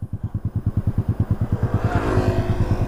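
Honda Click scooter running without an exhaust silencer: close, loud engine pulses quicken steadily, then swell into a raspy rev near the end, with no voices.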